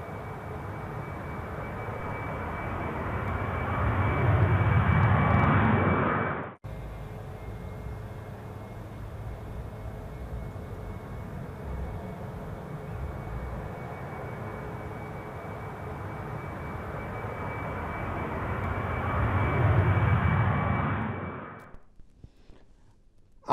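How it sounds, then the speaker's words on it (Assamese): A passenger airplane taking off from a runway at Ahmedabad and retracting its landing gear gives a loud, steady jet roar that swells twice and fades near the end, with no talking. "ৰানৱেৰ পৰা বিমানখন আকাশ মাৰ্গত উঠাৰ পিছত মাত্ৰ 10 সেকেন্ড সময়ৰ ভিতৰতে এই বিমানখনে ল্যান্ডিং গিয়াৰ সামৰিছে"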